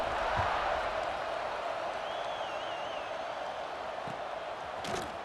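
A stadium crowd in the EA Sports College Football 26 video game roars steadily and loudly throughout, a dense, unbroken wash of cheering with no pauses.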